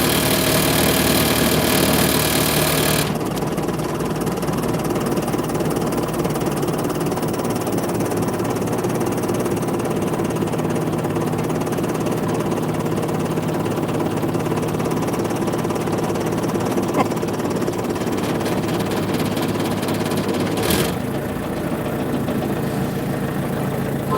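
A four-cylinder car engine idles steadily and continuously, its low hum loud and constant with little change apart from a brief shift near the end.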